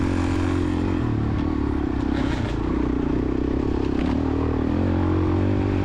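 Suzuki DRZ400E dirt bike on a rocky log road during a cross-country race, with its engine droning steadily and loud up close, plus rattles and clatter from the rough ground.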